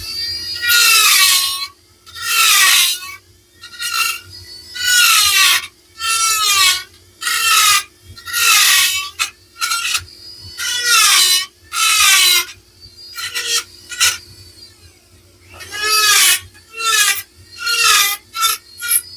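A Dremel rotary tool with a 3-point cutter carves into wood, a loud, close, raspy grinding in repeated strokes of a second or two each, over a steady low motor and dust-collector fan hum.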